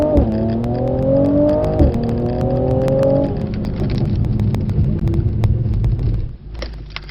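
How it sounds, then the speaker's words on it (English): A Mercedes C43 AMG on a track day, its engine note climbing loud and close through revs with a brief shift dip, then easing off as the car slows near the end. "Remember, absolutely hit the brakes as hard as you can."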